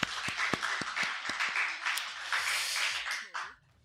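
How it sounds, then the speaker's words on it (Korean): Church congregation at a Christmas worship service giving a round of applause, a moderately loud wash of clapping with sharper individual claps, lasting a few seconds before fading out. "하나님께 감사와 영광의 박수 돌리겠습니다."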